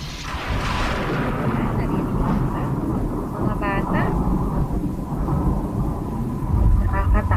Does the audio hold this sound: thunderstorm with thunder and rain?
yes